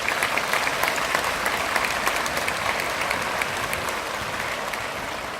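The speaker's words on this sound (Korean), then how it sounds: "우리 대중 여러분께서는 우리 목사님들한테 박수로 감사를 드립니다" Sustained applause from a large congregation at an Easter union revival service in Changwon, honoring the pastors; steady, dense clapping holds throughout at an even level and fades only slightly toward the end.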